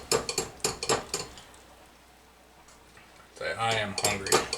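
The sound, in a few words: stirring cheese into grits in a pot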